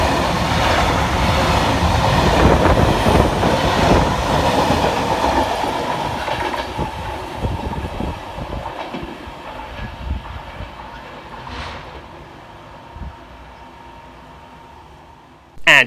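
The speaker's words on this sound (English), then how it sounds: "Passing next through the station will be 66518, working 6 Foxtrot 33 from South Bank Tees Docks to Bowlby Mine." A Class 66 diesel freight locomotive, 66518, hauls a freight train through Marske station on the Tees Valley Line, its wagons rumbling and clattering loudly past before the sound fades away into the distance.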